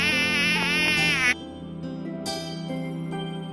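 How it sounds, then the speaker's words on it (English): A mosquito buzzing: a thin, high, wavering whine for just over a second over light background music, ending suddenly. "Mosquito."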